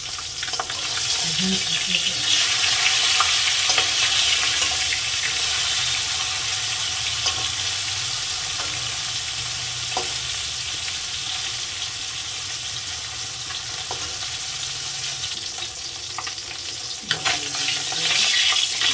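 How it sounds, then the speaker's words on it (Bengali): Singi fish frying in hot oil in a home kitchen, a loud, steady sizzle and crackle that runs the whole time with a few soft clinks, and no one talking. "তেলটা গরম হয়ে গেছে মাছ দিয়ে দিলাম মাছটা সুন্দর করে ভেজে নেবো"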